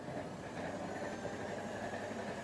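A Thermomix mixes ingredients for a traditional Basque cake, giving a continuous, even whirring and churning that stays level and fairly loud throughout, with no talking.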